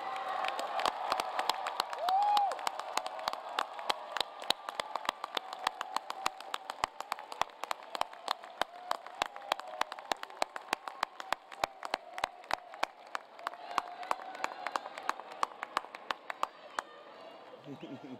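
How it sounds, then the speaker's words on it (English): A large engineering commencement ceremony audience claps at length, steady dense applause filling a big hall. Occasional voices and murmurs rise over it before the clapping thins out near the end. "give them a round of applause for supporting you."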